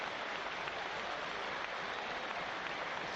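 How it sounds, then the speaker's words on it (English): A stadium crowd at a Luton versus Sunderland football match applauds a player being substituted off, steady dense clapping heard from a distance without pause. "Morris applauded off here."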